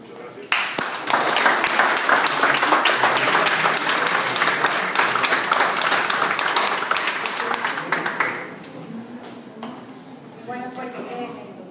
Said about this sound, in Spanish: tanto los ponentes como el público asistente se merecen un aplauso